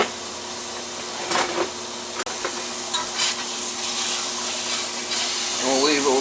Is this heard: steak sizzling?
yes